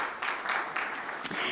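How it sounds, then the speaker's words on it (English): A brief burst of applause at an African conference on debt and development, uneven clapping that rises and dips in short surges over little more than a second. "Applaudissements."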